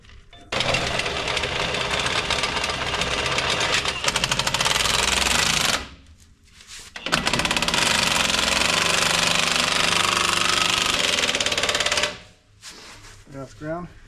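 A crank jack converted to an impact jack, driven by an impact wrench: loud rapid hammering bursts of about five seconds each, separated by brief pauses, close and dominant.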